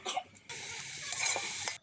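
Grated coconut frying with sugar in a pan, a sudden steady hiss of sizzling with faint stirring knocks, preceded by a couple of short coughs.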